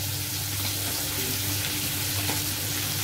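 Onions frying in hot oil with roasted cumin and a pinch of asafoetida give a dense, steady sizzle, loud and close, with faint stirring scrapes and no talking.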